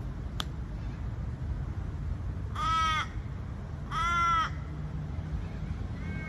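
Two harsh, raspy cockatoo screeches ring out about a second apart over quiet outdoor background noise in Armadale, Western Australia, with a faint third call starting at the end.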